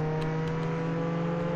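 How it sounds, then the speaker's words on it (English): A car engine in a video game gives a steady, loud electronic hum with a constant pitch throughout the short stretch, no talking over it. "See, that's the sound of a car."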